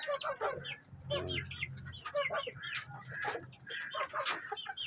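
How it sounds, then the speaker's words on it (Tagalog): A native Filipino hen clucks close by in a backyard, uttering a run of short, choppy calls and low grumbles in irregular bursts, with no one speaking. "Native na inahin."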